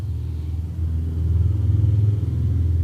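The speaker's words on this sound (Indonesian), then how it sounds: "Ada suara motor lagi, mudah-mudahan nggak kedengeran ya." A motorcycle engine rumbles steadily nearby, its low drone rising slightly in pitch and loudness as it passes, with no talking.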